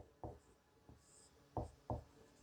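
Pen or pencil writing on paper during a maths lesson, faint close strokes and taps with a few sharper marks spaced irregularly, no talk.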